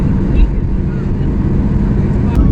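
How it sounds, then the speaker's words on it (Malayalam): A passenger jet taxis toward the runway for takeoff, heard from the cabin as a steady low rumble and engine drone with a faint whine above it. "നമ്മുടെ ഫ്ലൈറ്റ് ടേക്ക് ഓഫ് ചെയ്യാൻ വേണ്ടി പോകാട്ടോ"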